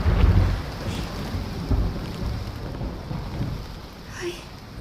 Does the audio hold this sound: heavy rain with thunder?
yes